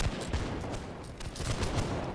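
Distant, muffled musket volleys in the Napoleonic-era game Holdfast: Nations at War crackle as a continuous rolling fusillade of many overlapping shots, fairly faint and steady throughout.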